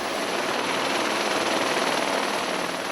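A police search helicopter flies close overhead while crews look for a missing hunter, its steady loud rotor and engine roar filling the air without a break.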